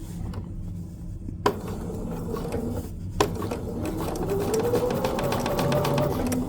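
A sewing machine stitches a fusible raw-edge appliqué piece onto quilt fabric, a steady close mechanical whir running throughout with two sharp clicks early on and a faint rising tone near the end, no talking.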